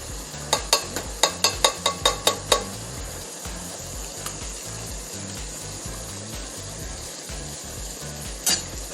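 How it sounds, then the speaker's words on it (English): Stirring chili powder into simmering enchilada chili meat in a pan, a quick run of about ten sharp spoon knocks against the pan, then a low bubbling and sizzling bed with a single later clank. "Let's blend all this together."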